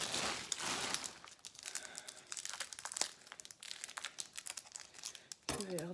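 Paper sachet of diamond painting drills crinkling and rustling close up, continuous crackly handling with a short voice at the end.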